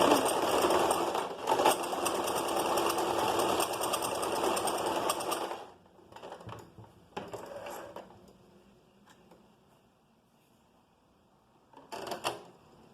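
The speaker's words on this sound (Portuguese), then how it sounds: "eu vou chulear a borda aqui e vocês chuleiem aí também com a reta, ou com a zigue-zague, ou com o overlock" A sewing machine runs at a fast steady whir for about six seconds while overcasting a fabric edge, then stops, followed by a few short bursts and clicks and one brief run near the end.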